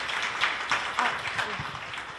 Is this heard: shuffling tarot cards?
no